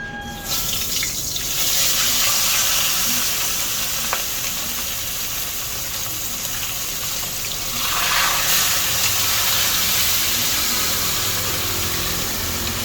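Continuous loud sizzling of fish frying in a pan, close up, with a brief surge in the hiss partway through.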